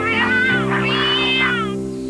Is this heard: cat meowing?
yes